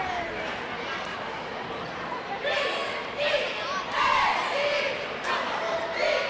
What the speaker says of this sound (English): the Hudson Hornet cheerleaders cheering at the opposite end of the court